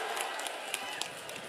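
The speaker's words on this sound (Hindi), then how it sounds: "संजय जायसवाल के लिए जोर से ताली बजाओ सभी लोग" A large outdoor crowd at a BJP election rally applauds, a steady wash of distant clapping with a few sharper individual claps standing out.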